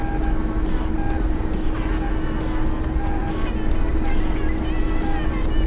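An Mi-24 Hind helicopter flies in a flight simulator game, giving a steady, loud turbine and rotor drone with a fast, even blade chop running throughout, with no voices.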